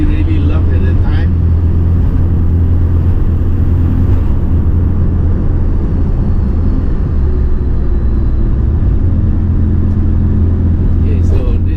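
A 1975 BMW 2002 Tii Turbo climbs the road up Genting, its engine a loud, steady low drone heard from inside the cabin throughout, with people talking faintly over it.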